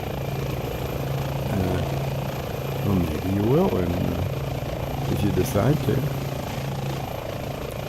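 Airbus H145 helicopter engine and rotor in Microsoft Flight Simulator keep up a steady whine and low rotor hum throughout, while someone talks over it.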